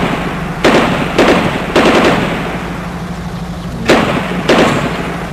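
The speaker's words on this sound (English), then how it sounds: "Bullets continue rending the air." Bursts of automatic gunfire ring out during a gun battle between security forces and separatist fighters in Cameroon's South West Region, with several short, loud volleys separated by pauses and no talking.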